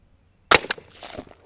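A single Aguila Colibri .22LR round is fired, giving a sharp, close crack followed by a quick second snap and faint rattling debris afterward.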